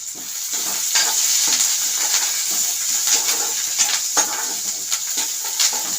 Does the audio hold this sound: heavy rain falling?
no